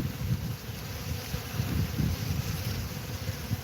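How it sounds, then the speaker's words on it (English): Honey bees work busily at a sunny hive colony, their low, continuous hum mixed with wind rumble across the microphone, steady and fairly loud without any voices. "The bees are feverishly working."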